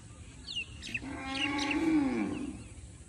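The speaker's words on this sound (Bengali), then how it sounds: "গরু ডাকছে হাম্মা" A cow gives one long, low moo lasting about a second, fairly distant and faint, with small birds chirping around it in the open air.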